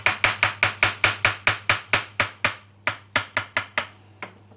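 Mushrooms sliced with a knife on a cutting board for lasagna, about eighteen crisp, evenly paced chops close up, with a short pause midway and a final softer cut, no talking.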